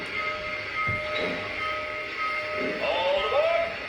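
A Lionel model of the Milwaukee Road Northwoods Hiawatha passenger train pulls away with a low mechanical hum and rolling sound, while a faint whistle-like tone rises near the end.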